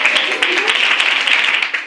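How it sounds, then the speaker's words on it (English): Steady clapping from a crowd at a primary school event, a dense patter of many hands that holds even throughout, fairly loud and close. "Let's welcome him with a round of applause."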